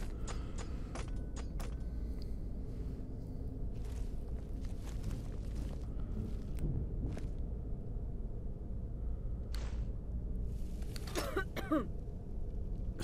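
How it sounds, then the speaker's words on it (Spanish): Lydia, a companion in the video game Skyrim, gives a few brief coughs and throat-clears over a steady low background rumble, with faint scattered clicks and steps and no talk. "Sí, hombre, Lidia, vamos en sigilo y tú ahí tosiendo."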